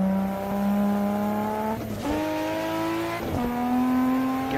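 A Toyota Supra or Nissan GT-R race car engine in Assetto Corsa drones at high revs with harmonic whine, dipping twice as gears shift, with brief crackling exhaust pops between; game-style engine audio, no talking.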